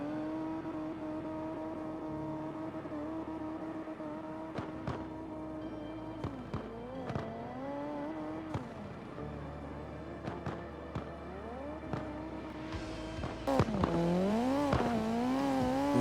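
A drift car in a virtual drifting event slides through turns, its engine droning and revving with rising and falling pitch, punctuated by sharp clicks, then a louder surge of revs and tire noise near the end.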